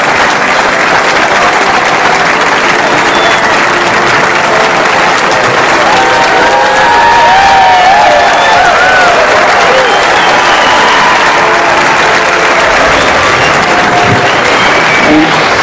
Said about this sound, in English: Please give a round of applause for our favorite band in town.